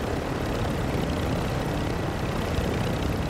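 Helicopter in the video game Modern Warfare 2 DMZ, giving a loud, steady droning roar of rotor and engine that holds unbroken throughout, with no talking.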